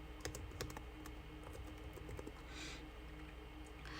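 Keys clatter on a computer keyboard as someone types an email, a quiet, uneven run of close taps and clicks with brief pauses, no voices.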